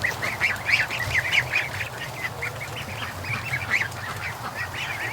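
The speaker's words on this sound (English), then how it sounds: "I want to show you my little Chinese goose" A Chinese goose honks in a series of repeated, fairly close calls, several short bursts following one another over a steady background.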